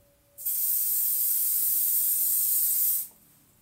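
A single steady hiss of anesthetic numbing spray from an aerosol can lasts under three seconds, close and clear against a quiet room.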